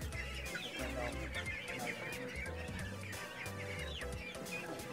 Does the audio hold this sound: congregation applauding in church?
no